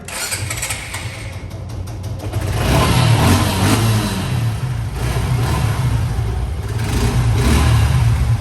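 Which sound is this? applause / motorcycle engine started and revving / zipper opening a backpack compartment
motorcycle engine started and revving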